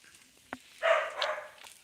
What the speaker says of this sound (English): If this dog would shut up.